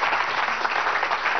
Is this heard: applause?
yes